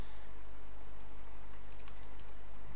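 Steady typing on a computer keyboard, soft rapid key clicks over a constant low hum, with no voices.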